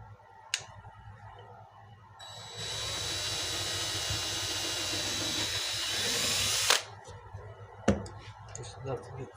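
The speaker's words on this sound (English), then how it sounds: "I'm going to drill a hole" A power drill bores a shallow pin hole into a circuit-board crankbait bill, spinning up into a loud, steady whine for about four seconds and then cutting off, with a few sharp clicks and handling knocks before and after.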